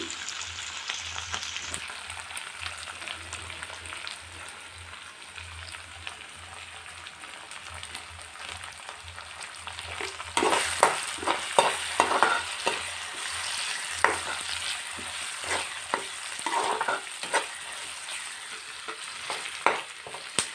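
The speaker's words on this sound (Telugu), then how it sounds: "ఇది పచ్చివాసన పోయినంత వరకు ఫ్రై చేసుకోవాలి." Ginger garlic paste and curry leaves frying for mushroom masala, a soft steady sizzle that grows louder and busier halfway through, with scattered scraping stir strokes, close and with no talk.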